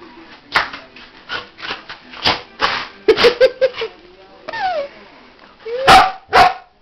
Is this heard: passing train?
no